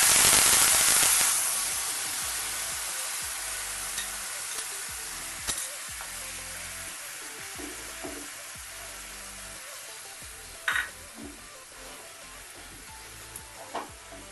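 Ground spice paste soaked in yogurt hits a hot pan for potoler dhokar dalna, bursting into a loud sizzle that settles into a steady frying hiss, with a few sharp stirring scrapes and no talking.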